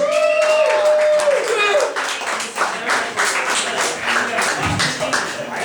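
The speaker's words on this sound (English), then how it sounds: "Give a round of applause, ladies and gentlemen." An audience at a comedy show claps and applauds, starting with a burst of clapping and carrying on as scattered, uneven claps.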